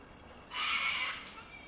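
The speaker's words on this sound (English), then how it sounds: "I can hear the cocky crowing overhead" A cockatoo calling overhead outdoors: one harsh, raspy screech lasting under a second, moderately loud against quiet background noise.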